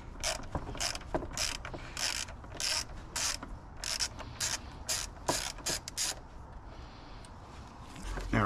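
Ratchet working 10 mm bolts off a shroud on a Nissan 3.3L engine, quick bursts of dense clicking repeated about a dozen times in an uneven rhythm, close and fairly quiet, with no speech.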